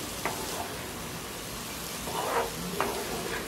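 Rice and mixed vegetables sauté in spices in a pan for veggie pulav, giving a steady close sizzle. Faint scrapes of stirring break in now and then.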